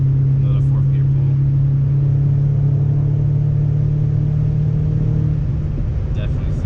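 An Audi B6 A4 with an ECS catback exhaust and no resonators pulls hard through 4th gear, a loud steady droning engine note holding from inside the cabin, with a voice speaking over it.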